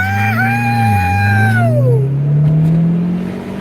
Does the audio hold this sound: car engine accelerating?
yes